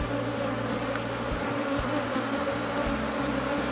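Honey bees drone in a dense, continuous buzz around an open hive of nine frames and a dummy board during an inspection of a caught swarm. The hum is close and steady, with no one speaking.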